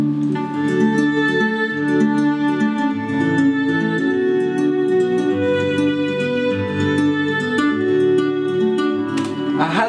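Plugin guitar run through reverb, Waves guitar processing and sidechained compression, layered with strings; a dense, steady harmonic mix with rhythmic plucked accents and a pulsing swell, loud and continuous without any talking.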